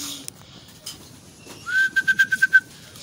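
Racing pigeons arriving home to the loft, with a quiet soft call early on and then a close burst of six or seven rhythmic whistling coos near the end.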